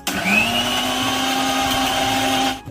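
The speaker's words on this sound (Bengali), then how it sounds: "এবার মিক্সারটা চালাবো" An electric mixer grinder runs steadily for a few seconds, blending a roasted mango drink paste, its motor whine loud and close from start to finish with a steady pitch.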